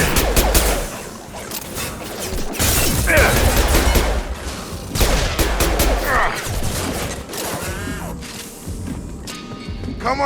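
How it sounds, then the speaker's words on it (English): Rapid gunfire fills a firefight in Mass Effect Legendary Edition, dense overlapping bursts and crackling shots that run almost without pause, loud and close. "Firing."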